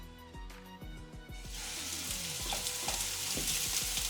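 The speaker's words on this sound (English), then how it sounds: "we're going to get a very hot pan and we're going to get a real nice quick sear all the way over our pork belly" Pork belly strips searing in a very hot pan for a charred finish: a few sharp hisses and clicks first, then a loud, dense sizzle that swells and crackles steadily, close up, no voices.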